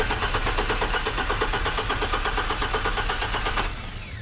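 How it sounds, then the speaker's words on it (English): A GMC Sonoma pickup that broke down cranks over with its fuel pressure still barely building, giving a steady, loud, rhythmic churning of the starter and engine for several seconds before cutting off abruptly. "give it a few cranks."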